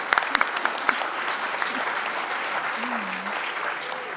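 An audience at a science comedy show breaks into broad applause, steady and full, with a voice briefly calling out over it.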